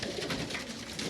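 Racing pigeons in a loft coo while feeding after a three-hour fly, soft overlapping cooing close by, continuous through the short moment.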